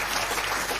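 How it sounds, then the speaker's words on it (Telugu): A church congregation claps together to glorify God during a sermon, a brief burst of dense applause. "చప్పట్లు కొట్టి దేవుడిని మహిమపరుద్దాం."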